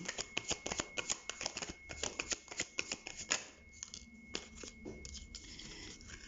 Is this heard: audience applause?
no